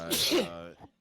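A single sharp, close human sneeze bursts out loud and breathy, then quickly fades to silence.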